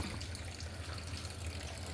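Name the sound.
sewage water trickling onto street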